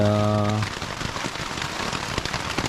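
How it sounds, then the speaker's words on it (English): Steady, heavy rainfall pattering and splashing on a surface, dense and close, on the Appalachian Trail, after a brief tonal sound at the start. "It's been raining really hard for a while."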